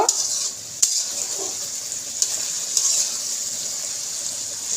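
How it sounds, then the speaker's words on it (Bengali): Chopped onions frying and browning in a pan for a dried lotte fish bhuna with garlic, giving a steady, moderately loud sizzle with a few faint clicks of a utensil on the pan. "তো পেঁয়াজটা আমি একটু বাদামি কালার করে নেই।"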